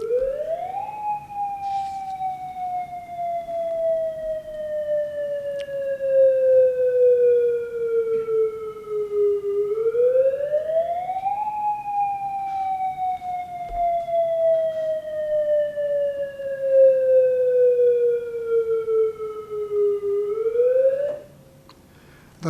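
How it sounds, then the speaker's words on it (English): A loud civil defense attack warning siren in Hawaii wails, rising and slowly falling in long repeating cycles, steady and continuous, with a sharp cutoff near the end. "sound a demonstration of the attack warning siren."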